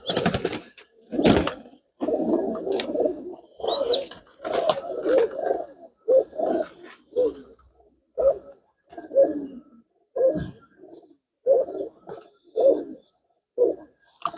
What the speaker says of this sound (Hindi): बहुत चंड चालाक है ये कबूतर